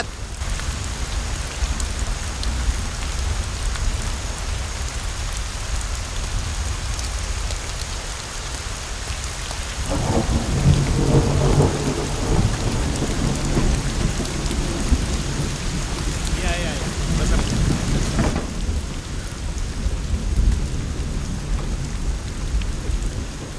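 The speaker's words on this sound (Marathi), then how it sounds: "अहो भिजताय कशाला? पाऊस पडतोय या." Steady heavy rain pours throughout, with a low rumble swelling midway, no voices heard.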